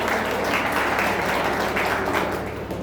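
An audience bursts into steady, dense applause for Gulshan at an evening hospital gathering, a continuous wash of clapping that stays fairly even before thinning slightly at the end.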